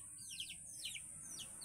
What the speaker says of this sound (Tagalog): may tumutunog na ibon